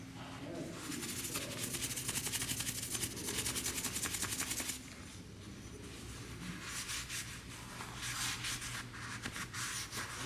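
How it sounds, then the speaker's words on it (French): Steel wool is scrubbed hard against a brazed copper pipe joint, making a rapid, rasping scratch in quick back-and-forth strokes, fairly close, pausing briefly midway before resuming. "je vais essayer de faire partir cette matière là avec de la laine d'acier en frottant très fortement"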